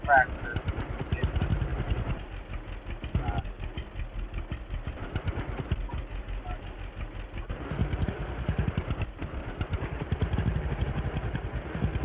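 A tractor engine in the farming video game Farmer's Dynasty 2 runs with a steady throbbing, idle-like pulse and a mild mechanical clatter, rising and dipping slightly over its length.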